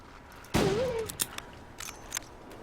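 A single sharp gunshot cracks out in a snowy survival game, followed by a short tonal whine and a few softer thuds and rustles as the sound dies away.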